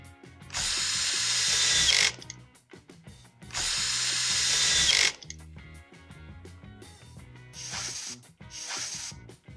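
A power driver spins screws out of a Husqvarna 440 chainsaw, two long buzzing whirs close by, then a shorter pair after a pause with small clicks and handling noise between.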